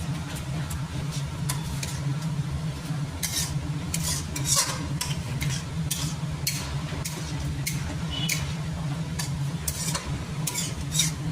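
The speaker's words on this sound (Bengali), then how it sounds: "এবার এটা একটু কষাবো জিনিসটা।" A chicken rice mixture with soy sauce sizzles steadily in a pan while a utensil scrapes and stirs it in irregular strokes, continuous frying close up without talk.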